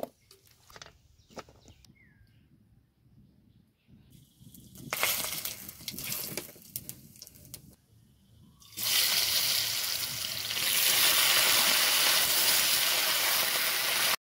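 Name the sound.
washing cut raw banana pieces in water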